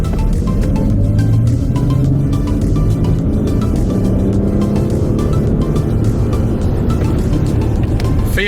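A Range Rover Sport with a Stage 1 tune pulls hard through a gear, its loud, steady engine roar filling the cabin from start to finish with no talking over it.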